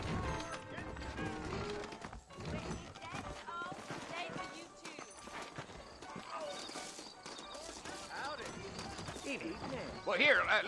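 Horses trot with rhythmic clip-clop hooves in the video game Red Dead Redemption on Nintendo Switch Lite, mixed with game sound and voices talking.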